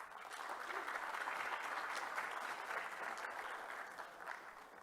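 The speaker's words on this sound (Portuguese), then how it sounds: "Recebam com uma salva de palmas." Audience in an auditorium claps to welcome a moderator at a conference session, a full, sustained round of applause from many people that swells slightly and then eases toward the end.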